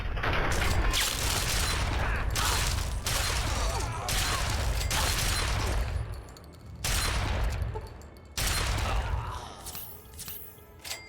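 Combat shotgun fire and battle noise in Fallout 3, heavy bursts of shots and booms rolling through several loud stretches, broken by short quieter gaps before the firing picks up again.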